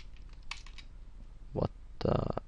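Computer keyboard keys tapped while typing code, a few light clicks followed by two denser bursts of rapid keystrokes, close and quiet, no speech.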